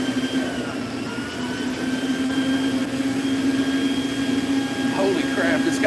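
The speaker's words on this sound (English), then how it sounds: "Holy crap, it's got a vacuum attachment." A ride-on toy with a vacuum attachment runs with a steady whining motor hum and airy roar, continuous and close, with a few brief higher squeaks near the end.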